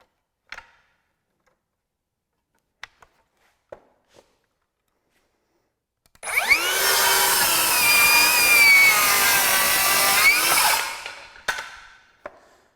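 A Metabo HPT 7-1/4 inch circular saw makes a 45 degree bevel cut through wood, spinning up with a loud whine that holds steady for about four seconds before winding down, with a few sharp clicks before and after.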